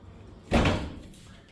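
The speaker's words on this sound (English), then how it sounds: "barn door." A sliding barn door in a hotel room rolls along its track with one soft, fairly close thud and rumble, then fades quickly into quiet room tone.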